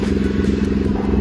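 Volkswagen Polo fitted with a new exhaust and a worn engine mount idles close by with a steady, low, rumbling pulse and no talk over it.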